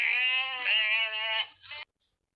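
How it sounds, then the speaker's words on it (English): A sheep gives one long, loud, nasal bleat with a wavering tone close to the listener, followed by a brief second bleat and then silence. "This is a sheep."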